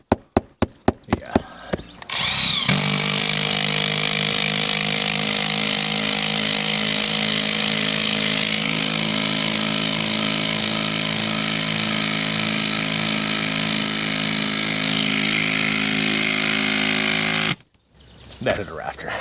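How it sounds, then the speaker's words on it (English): An impact driver whirs steadily and loudly for about fifteen seconds driving a screw into a rafter during a solar panel install, preceded by a few sharp clicks and followed by brief rattling. "I think we should use the other impact gun."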